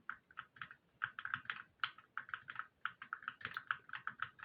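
A loud computer keyboard being typed on, with rapid, uneven bursts of sharp clicky keystrokes running close and steady throughout, no voices.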